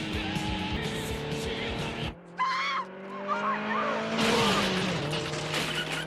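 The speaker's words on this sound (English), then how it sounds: "sets up one of the gnarliest car chases I've ever seen" A car chase in the 1987 film The Hidden is loud with roaring engines, squealing tires and skids, breaking off briefly before the screeching and engine noise surge back under a film score.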